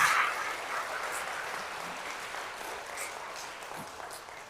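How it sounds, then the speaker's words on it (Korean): A church congregation applauds confirmation candidates, a dense, even wash of clapping that fills the room and gradually softens over several seconds. "이분들에서 박수 한번 쳐주세요."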